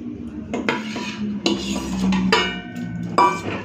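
Potatoes go into a pot of mutton curry with repeated metallic clanks and scrapes of a utensil against the pot, loud and close, in irregular knocks with short gaps between them.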